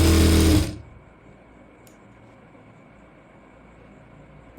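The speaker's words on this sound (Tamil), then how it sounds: "இப்போ நான் தையல் போடுறேன்." A sewing machine stitches a 1-inch folded hem on a basic kurti in one short, loud whirring burst at the start, then stops, leaving quiet room tone.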